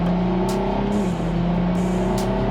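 Ferrari LaFerrari supercar engine heard from inside the cabin, a loud, steady hum with shifting pitch as revs change, no one talking.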